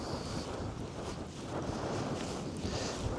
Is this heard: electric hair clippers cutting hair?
no